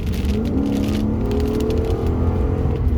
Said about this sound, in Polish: Wtedy wciskamy gaz do dechy.